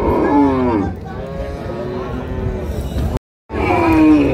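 Cows mooing at a cattle market in Dinajpur where dairy cows and calves are sold: a long, loud, close bellow with a falling pitch, a quieter stretch, a brief gap, then another loud moo.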